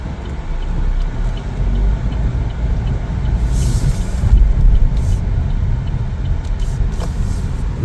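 A 2025 Chevrolet Trax slows to a stop on the road, a continuous low tire and road rumble with a soft hiss and faint squeaks near the end, heard from inside the car.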